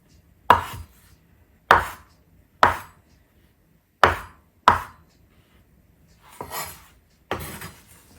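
Fresh chives are chopped into quarter-inch pieces with a knife on a cutting board: about seven crisp, separate knife strikes with uneven gaps, close by and clear, followed by a few softer scraping taps.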